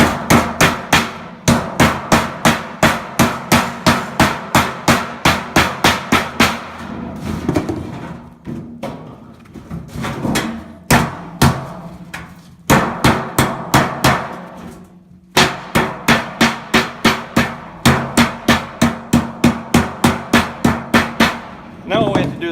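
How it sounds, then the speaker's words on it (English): Rapid, loud hammer blows ring on sheet metal as a 90 degree bend is formed, coming in fast rhythmic bursts with brief pauses between runs of strikes, close and alone. "finish it up by just dressing this up, hammering that down"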